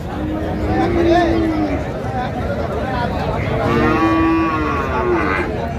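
Cattle moo at a busy rural cow market where thin, bony cows and calves are traded: two long drawn-out moos a few seconds apart, fairly close, over a constant murmur of crowd chatter.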